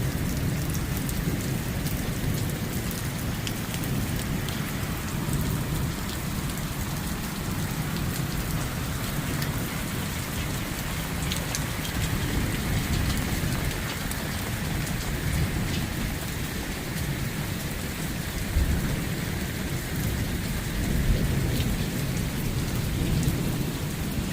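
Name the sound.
heavy rain with lightning during a night cloudburst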